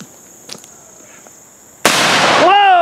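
A single loud, sharp muzzleloader rifle shot fired at a target during an outdoor woods-walk shooting match, arriving after a quiet stretch with faint voices and followed by a ringing, decaying tail.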